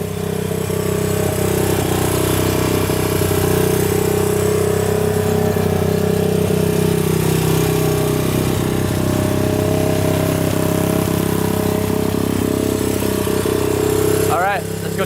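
A Honda ATC 200x three-wheeler idles steadily and close for the whole stretch, a continuous even putter with a brief rising rev right at the end.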